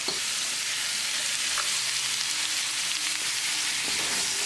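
Chicken thighs with spices and frozen vegetables stir-fry in a hot pan, producing a constant close sizzle with occasional faint scraping from stirring and no talking.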